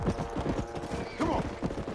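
Horse galloping in the Red Dead Redemption video game, rapid rhythmic hoofbeats close by with a brief whinny in the middle, moderately loud and steady.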